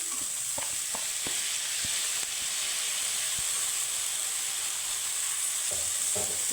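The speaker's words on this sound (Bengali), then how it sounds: "পেঁয়াজটা ভাজা হয়ে গেছে এখন দিয়ে দিব আমি আলু কুচনো" Onion and chopped potato frying in a pan, a steady hot sizzle with a few scraping stirs and taps near the start and end.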